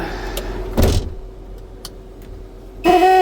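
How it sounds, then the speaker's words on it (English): A garbage truck's door-not-shut warning sounds as a steady electronic tone with a mechanical clunk before it, and a louder buzzing alert starts near the end. The truck is close by and no one is talking. "That's the sound that the truck makes when the door's not shut properly."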